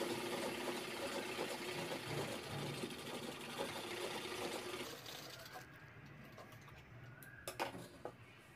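A sewing machine stitches lehenga fabric with a steady close whir for about five seconds. It then quiets, leaving faint clinks and rustles.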